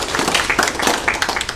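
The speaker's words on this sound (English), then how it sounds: "Give these young men a round of applause." A small indoor audience at Governor Doty's home, the Doty Cabin, claps for two guest speakers, a brief burst of close, uneven handclaps at moderate loudness with no voices over it.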